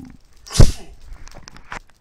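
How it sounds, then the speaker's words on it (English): A man sneezes once during a gaming session, a sharp burst that rises and dies within half a second, followed by quieter indistinct noises and a brief breathy sound. "Ooh, sorry, I had to sneeze."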